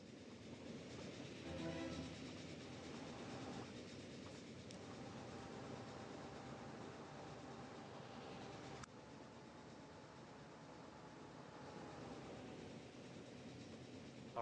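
Steady rumbling run of a train in the video game Transport Fever 2, with continuous rolling wheel noise and faint rail clatter, a brief horn-like tone early on, and no talk over it.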